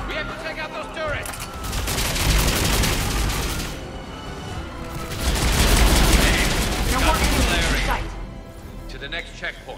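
Turret gunfire from the video game Mass Effect 3 bursts in sustained loud volleys amid combat noise, with voices talking over the shooting.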